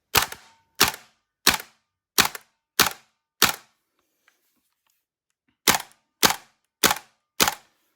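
A Krytac Kriss Vector gas blowback airsoft rifle with a Hephaestus recoil power kit fires single shots on semi-auto, ten loud, sharp cracks: six evenly spaced, a pause of a couple of seconds, then four more.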